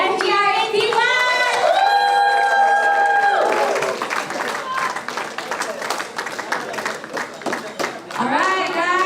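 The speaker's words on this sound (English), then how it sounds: "Let's give one more round of applause to SGR81!" An audience claps and cheers at a trophy presentation after a three-hour endurance car race, with shouts and voices over ongoing applause, some clapping near and distinct.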